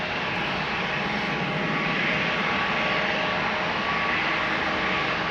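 A KLM jet airliner departs Amsterdam Schiphol bound for Rome, its engines a loud, steady, broadband roar sustained close by throughout, with no voices.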